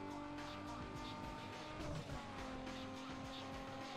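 A race car in the video game Need for Speed Underground 2 roars with a continuous engine drone and tire squeal, loud and steady throughout with a brief surge midway, while a voice talks faintly underneath.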